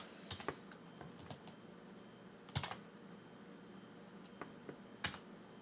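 Typing on a computer keyboard during Linux terminal work: sparse, uneven key clicks with a few sharper taps in quick clusters, close and fairly quiet, with no talking.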